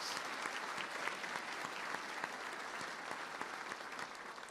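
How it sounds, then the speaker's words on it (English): Steady applause from a sizable crowd, dense clapping filling the whole stretch at an even, fairly distant level. "Please give these people a round of applause."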